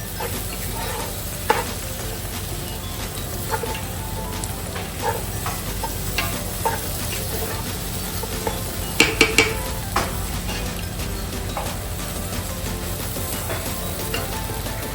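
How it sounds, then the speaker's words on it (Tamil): Spicy Sri Lankan-style chicken fried rice sizzles in a pan while a utensil stirs and scrapes it, with a continuous frying hiss and scattered clinks of metal against the pan, and no talking. "நான் இப்போ ஃப்ரை பண்ணி வச்சிருக்கேன் கூட சிக்கன் ஆட் பண்ணுறேன்"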